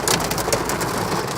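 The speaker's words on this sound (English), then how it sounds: "That is most definitely the biggest hail I've ever seen." Large hail falls and hits the surroundings in a dense, loud, continuous clatter of rapid impacts, with no voices.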